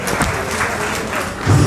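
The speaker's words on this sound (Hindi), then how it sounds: "जोरदार तालियां सर के लिए।" Audience applause at a public meeting on equality, a steady wash of clapping from a crowd that swells louder near the end, with some voice mixed in.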